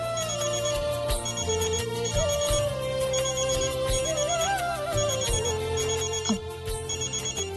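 A mobile phone rings with a repeating electronic ringtone in short, regular bursts of chiming tones. It plays loudly and continuously over layered dramatic background music from a Hindi TV serial scene.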